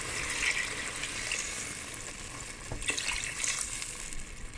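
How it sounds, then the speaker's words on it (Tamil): Water pours into a cooking pot for Tom Yum fish soup, a faint steady hiss and splash of filling liquid, quiet and close, with a few small knocks partway through. "இப்போதைக்கு நாங்கள் 1 லிட்டர் தண்ணி விடுவோம்."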